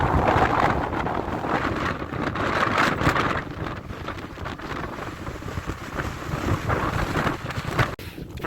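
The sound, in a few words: strong Nord-Ost wind on the Markhotsky ridge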